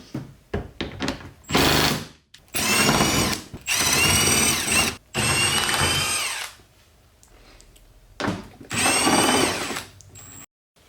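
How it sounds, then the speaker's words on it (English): Loud, close bursts of a power impact tool removing the bottom bolts of the rear bumper on a BMW Z4 (E85/E86), several whirring runs separated by short pauses, with a few clanks at the start. "I'm first going to tackle the bolts on the bottom side of the bumper."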